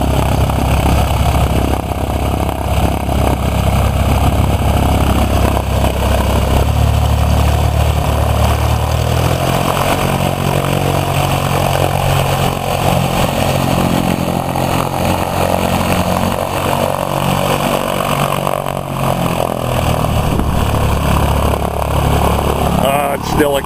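A light airplane engine runs at a steady, loud drone at a fly-in at Bremerton National Airport as it starts up and taxis, close by and continuous throughout.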